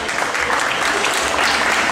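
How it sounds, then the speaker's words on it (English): A cruise-ship audience at a live painting demonstration applauds, a dense steady wash of many hands clapping nearby for the whole stretch. "give him a nice round of applause"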